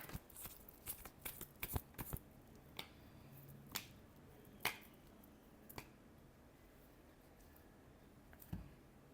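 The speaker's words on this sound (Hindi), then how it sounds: "Last shuffle." Tarot cards are shuffled for a final time in short, crisp riffles and taps. The sound comes in a flurry at the start and then thins to scattered single flicks over a quiet, low background, with no voice heard.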